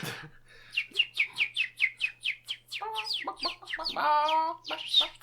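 People imitating bird calls: a rapid run of chirpy, clucking calls, then a longer warbling call, repeated several times close by with no other sounds.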